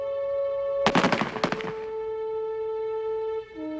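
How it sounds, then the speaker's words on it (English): A volley of rifle fire at a French military execution rings out as a single dense burst of sharp cracks, loud against a steady background tone. "The order is given to fire."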